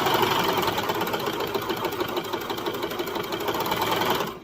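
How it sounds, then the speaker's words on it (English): A sewing machine runs steadily for about four seconds, top stitching down a serger seam on a baby bodysuit, with a close, continuous mechanical whir and rapid needle rhythm and no talk, stopping abruptly at the end. "And then I'm just literally sewing, making sure that my seam, my serger seam under here is going this way"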